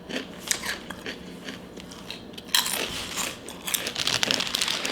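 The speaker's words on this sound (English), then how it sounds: "I got some barbecue chips from them. And Doritos, because I'm greedy." Barbecue potato chips and Doritos are crunched while eating: close, irregular crisp bites and crackles, with bag crinkling mixed in and a louder stretch in the second half.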